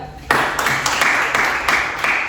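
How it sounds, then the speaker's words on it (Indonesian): Classroom applause for a student during a micro-teaching lesson: a short burst of clapping from a group of pupils, loud and close, with several sharp onsets over about two seconds. "tepuk tangan buat Adinda."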